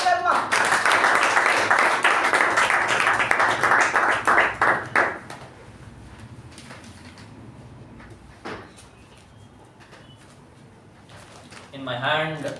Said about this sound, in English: help me with a big round of applause to welcome Toastmaster Shivaprasad Sharma